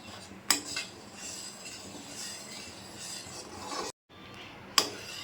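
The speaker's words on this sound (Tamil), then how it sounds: "ஏடு வராத அளவுக்கு நம்ம கிண்டிக்கிட்டே இருக்கணும்." Milk being stirred steadily in a pan while it slowly reduces into condensed milk, giving a continuous scraping, clinking stir with two sharp utensil knocks against the metal.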